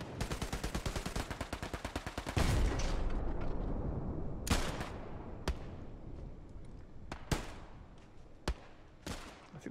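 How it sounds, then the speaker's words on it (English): Gunfire in the World War II shooter Hell Let Loose: a rapid burst of automatic fire opens, followed by scattered single loud shots, some close and some farther off, with no talk. "I think the gunfire's let up a bit."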